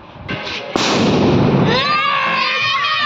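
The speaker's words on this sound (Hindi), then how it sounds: "तो इधर आतिशबाजी चालू हो गई" A firecracker placed in gulal powder during a Ganesh immersion procession, a loud sudden bang followed by a rushing fizzing burst and crackle that trails off, with crowd voices and shouting around it.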